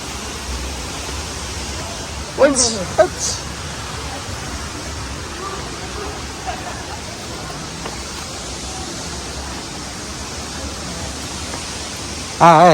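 Takapala waterfall near Malino in Gowa pours over low rocks in a steady, full rush of water that fills the scene, with a brief voice and a short sharp sound rising above it early on.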